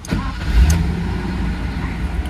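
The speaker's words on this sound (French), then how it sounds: "Elle démarre bien à chaud, elle démarre bien à froid." A restored car's engine idles and runs after starting, a steady low rumble with a brief swell early on, heard close and without speech.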